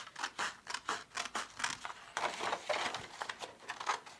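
Scissors snip through a scored 12 x 12 paper sheet, giving a quiet, close run of rhythmic crisp cuts with short pauses between them and no talk.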